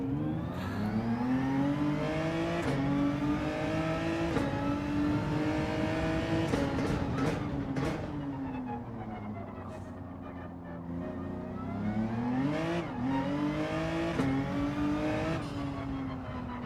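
A race car engine in Gran Turismo 7 revs and shifts through the gears, its pitch climbing and dropping repeatedly during a manufacturer-series test lap, loud and continuous with a faint voice underneath.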